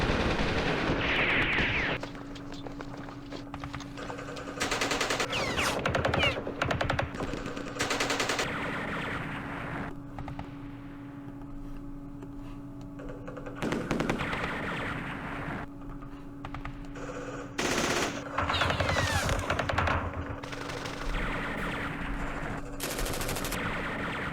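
Rapid machine gun bursts from the Campaign Series Vietnam strategy game recur across a steady electronic background, interspersed with clicking, and come in short repeated volleys with no speech.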